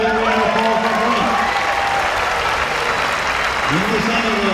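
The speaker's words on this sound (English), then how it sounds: "How about a round of applause for Brent?" Loud crowd applause for a competitor at a standing block woodchopping championship final, dense clapping and cheering mixed with announcer-style voices and whistles close by.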